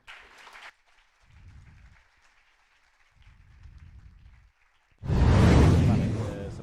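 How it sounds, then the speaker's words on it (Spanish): A lecture audience breaks into loud, dense applause that swells suddenly and holds steady at the end, following quieter scattered sounds and murmurs in the hall. "Un aplauso, por favor"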